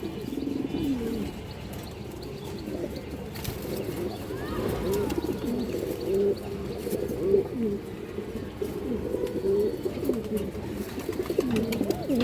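Many Kaldom and other fancy-breed pigeons cooing in soft, overlapping rumbling calls, close and continuous, with occasional chirps mixed in.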